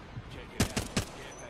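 Three quick gunshots in Apex Legends ring out in a short, moderately loud burst, evenly spaced over about half a second, with faint background game noise.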